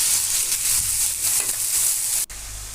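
Two slices of fish roe fry in hot oil with a steady, loud, bright sizzle that cuts off abruptly near the end.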